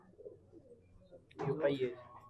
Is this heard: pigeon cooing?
yes